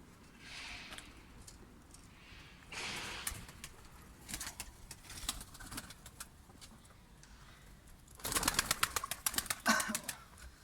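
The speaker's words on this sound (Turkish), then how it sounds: "Sesin şeye baksana Lombardini su motoru gibi ha kanat sesi" Tumbler pigeons flying overhead, their wings clapping in bursts of rapid cracks, with a dense, loud flurry of claps near the end, set over faint outdoor background noise.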